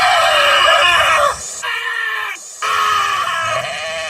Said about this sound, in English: Those are actual sheep screaming.